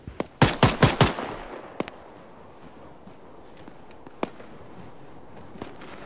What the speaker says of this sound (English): I think they're shooting at each other.